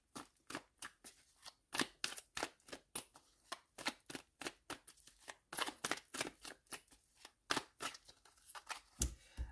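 Tarot cards are shuffled for a nine-card spread, a quick, close run of crisp riffling snaps and slaps repeating in an uneven rhythm, with no talking.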